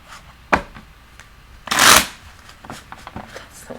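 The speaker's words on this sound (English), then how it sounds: "That's a good shuffle" Tarot cards being shuffled during a reading: a sharp riffle burst in the middle, with lighter card flicks and taps before and after, close and clear.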